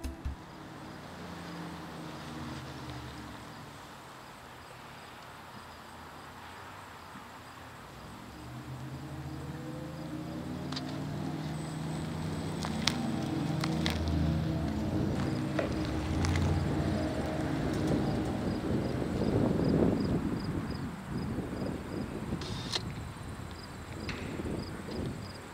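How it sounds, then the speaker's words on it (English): A Porsche Taycan all-electric car plays its artificial drive sound, a low synthetic rumble with a rising, space-age whine that swells as the car accelerates, heard close from inside with faint road noise. "you can turn on a mode of sound and it gives it a engine rumble kind of space age whine thing"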